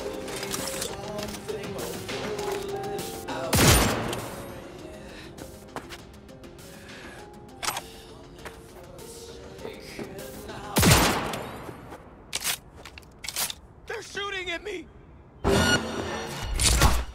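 Gunfire in the game Cyberpunk 2077, three loud sharp shots spaced several seconds apart over ambient game music, with brief zipping and clattering effects between them.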